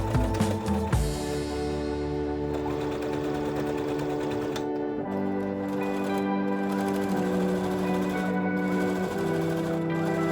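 A sewing machine runs steadily while shirring the back of a dress, its needle chattering in a fast, even rhythm with brief pauses and shifts in speed, close and clear with no talking.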